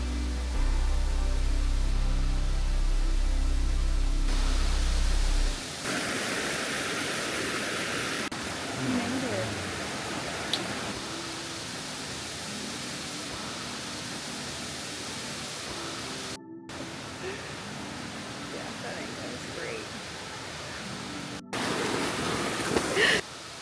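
Large waterfall on Maui, a steady broadband roar of falling water that stays loud throughout, with rushing and splashing texture and a brief cut partway through.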